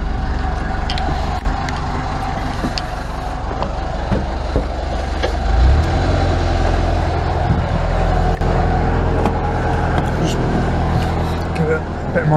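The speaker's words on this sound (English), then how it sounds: "You can hear the bloody engine slowing down." Boat engine running with a low, steady drone that dips and labours as it slows, heard close and continuous beneath conversation.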